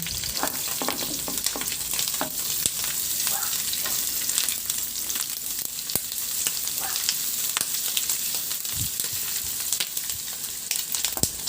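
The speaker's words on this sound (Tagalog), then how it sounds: "itabi ko muna yan sa kawali at igisa ko na rin dyan yung bawang" Garlic sautéing alongside seared pork belly liempo in a hot oiled pan, a steady close sizzle of frying with scattered crackles and scraping stir strokes throughout.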